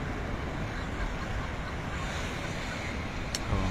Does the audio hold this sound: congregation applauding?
no